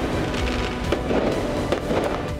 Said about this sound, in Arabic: وأطلقت مفرقعات نارية